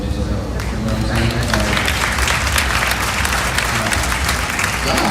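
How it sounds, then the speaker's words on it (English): An audience at a live show at NoodleCon breaks into loud, dense, continuous applause that fills the room, with some voices mixed into the clapping. "Y'all hands so hurt if y'all keep clapping at everything."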